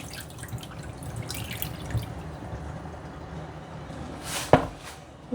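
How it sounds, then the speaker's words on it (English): Water drips and trickles as washed yam and cocoa are drained, a faint, sparse patter with a sharper splash near the end. "And drain the water off."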